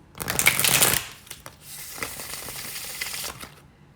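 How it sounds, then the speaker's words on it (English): Tarot cards riffle and flutter in a quick burst, followed by softer shuffling, tapping and handling sounds, close and clear with no voices. "So we'll go ahead and give these another little shuffle."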